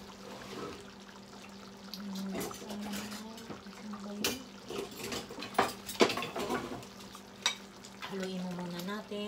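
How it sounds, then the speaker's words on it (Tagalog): Spaghetti being stirred in a pan during home cooking: soft scraping and wet stirring with light sizzling and trickles, quiet and close, with a few sharper clinks near the end and faint talk. "Haluin mo muna natin."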